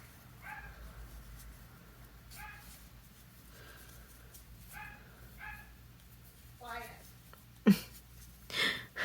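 A dog barks in short, muffled yips several times in the background, followed by a couple of sharper sounds near the end.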